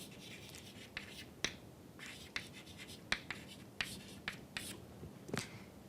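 Chalk or marker strokes on a board during a lecture, a string of short sharp scratches and taps at an irregular pace, moderately close over a quiet room with no talking.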